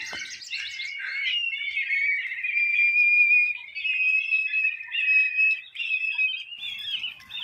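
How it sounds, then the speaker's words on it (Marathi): Birds chirp and whistle in a continuous bright, high-pitched warble, clear and fairly close, with no voices, on Parvati Hill in Pune. "अतिशय सुंदर असं या पक्ष्यांचं संगीत कानी ऐकायला येतं आहे एकदम असं श्रवणीय असं हे त्यांचे किलबिलाट"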